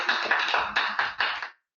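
Applause at the end of an online presentation, a short burst of about six or seven close hand claps in a loose rhythm, stopping abruptly after about a second and a half.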